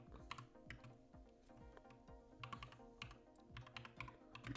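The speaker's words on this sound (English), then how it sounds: "you can also type something about your desires" Computer keyboard typing comes as quick, light key clicks in uneven bursts, soft and close over a faint steady hum.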